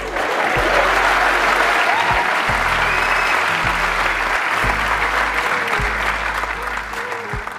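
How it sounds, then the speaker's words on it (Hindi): An audience at a motivational seminar claps steadily, a thick wash of applause sustained at even loudness over a low background hum for several seconds. "ताली कौन? मैं बजाऊंगा?"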